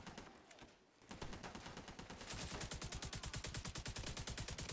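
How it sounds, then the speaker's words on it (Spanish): Rapid, continuous gunfire rattles in a steady fast rhythm in the video game The Division 2, growing louder and denser after a brief lull, like automatic weapons firing close by. "Dos, tres balazos, lo hicieron concha"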